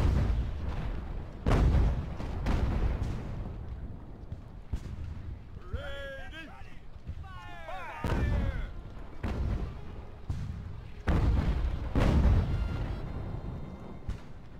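Booming cannon and artillery fire from a naval siege battle in Ultimate Admiral: Age of Sail, a run of heavy blasts and rumbling impacts at uneven intervals, with a short passage of pitched tones between volleys.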